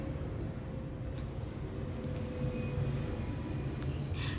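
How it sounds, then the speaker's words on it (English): An airplane passing overhead, heard as a steady, distant low roar and rumble that holds throughout with no one talking. "there's just an airplane that passed by"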